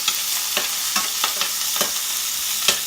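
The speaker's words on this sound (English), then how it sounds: "I'm going to add the onions to the oil. And the garlic." Onions and garlic frying in oil for saltfish buljol, with a steady, close sizzle broken by a few sharp clacks from the stirring spoon, and no voices.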